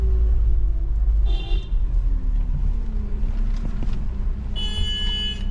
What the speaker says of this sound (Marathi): ट्रॅफिक लागली इथे.